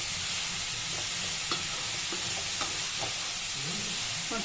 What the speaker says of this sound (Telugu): ఇప్పుడు ముక్కలు వేసేయాలి.